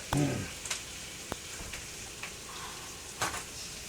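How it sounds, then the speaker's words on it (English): Bacon frying in a pan as its fat renders, a low continuous crackle and sizzle broken by a few sharp pops and ticks, close and moderately quiet, with no voices. "That bacon is going to render down its fat"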